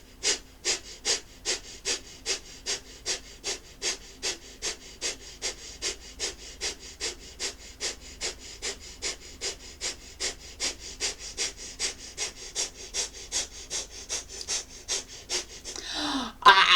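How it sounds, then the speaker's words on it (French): Rapid, forceful fire-breathing exercise: about forty sharp, evenly paced exhalations in a steady rhythm, close and loud, ending in a brief louder burst. "C'est parti pour la démonstration de respiration du feu."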